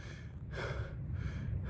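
A man breathing heavily after exertion, with a few loud, rough breaths in quick succession close to the microphone and no speech.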